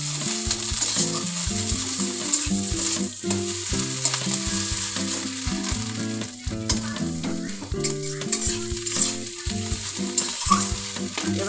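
A cauliflower filling is stir-fried with roasted cumin powder, giving a loud, continuous sizzle with frequent spatula scrapes and clatter against the pan, close up and without talk.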